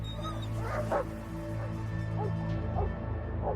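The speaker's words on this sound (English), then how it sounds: "while Karen and George use dogs to attempt to pick up Nick's scent" Dogs bark and yip in short bursts over a low background rumble, with some whimpering between barks.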